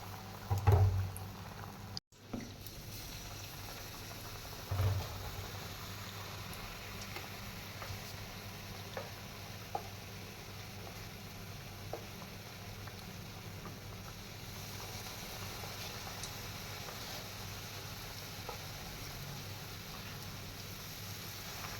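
Vada batter dropped by spoon into hot frying oil, a steady fizzing sizzle throughout with a few faint clicks and one sharp knock near the start, fairly quiet.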